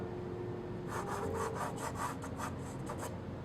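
Soft pastel drags across paper in broad strokes, a run of about ten quick, rhythmic, close scratchy sweeps after a short quiet start.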